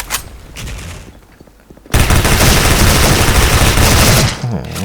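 Rapid automatic fire from a Kriss submachine gun in the online shooter Special Force, a loud continuous burst of gunfire filling the second half after quieter scattered shots.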